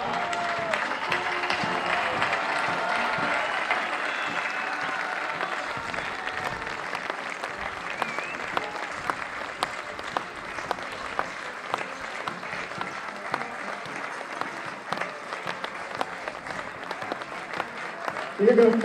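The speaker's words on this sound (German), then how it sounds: "Begrüßen Sie mit mir mit einem kräftigen Applaus die Siegergruppenkommandanten" Sustained applause from an audience at a fire brigade competition award ceremony in Traisen, dense steady clapping lasting throughout with crowd noise and a little talk mixed in, swelling louder at the very end.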